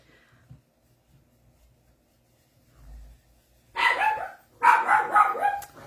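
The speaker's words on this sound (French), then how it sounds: "si vous ne saviez pas, j'ai un chien" A dog barks in a quick, loud burst of several yaps, breaking a near-silent room in which artwork is being textured by hand; a short pause follows, then a second, longer run of barking.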